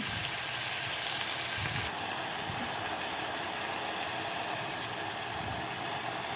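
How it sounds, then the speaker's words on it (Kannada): Tomatoes frying in a pan for a village-style horse gram sour curry, a continuous close hiss and sizzle with faint clatter underneath, fairly steady throughout. "ಚೆನ್ನಾಗಿ ಫ್ರೈ ಮಾಡಿ ಟೊಮೊಟೊ ಫುಲ್ ಮ್ಯಾಶ್ ಆಗೋ ಗಂಟ ಫುಲ್ ಚೆನ್ನಾಗಿ ಫ್ರೈ ಮಾಡಿ"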